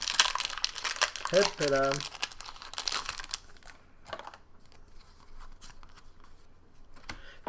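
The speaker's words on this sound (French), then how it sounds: "On va ouvrir le deuxième pack M15." A Magic: The Gathering M15 booster pack wrapper is torn and crinkled open close up, a burst of loud crackling foil in the first few seconds, then quieter scattered rustles and clicks, with someone speaking briefly.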